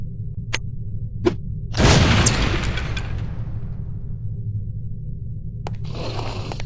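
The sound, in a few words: lipstick explosive detonating in video game No One Lives Forever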